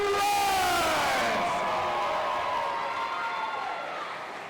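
A boxing event crowd cheers and applauds after the fight, a loud, sustained roar of voices and clapping that slowly fades, with no one speaking over it.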